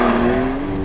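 Twin-turbo Porsche 911 Carrera with manual transmission on a race track, a brief, loud, steady engine drone heard close up.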